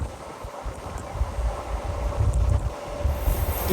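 A MEMU express train, number 17259 on the Nellore to Vijayawada run, rumbles steadily through green crop fields, with a low rolling drone and wind buffeting the microphone throughout.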